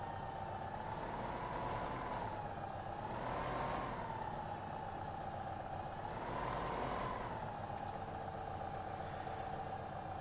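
Tractor engine in the video game Farming Simulator 2015: a steady mid-pitched engine drone that swells and dips gently in pitch a few times, continuous and moderately loud with no speech.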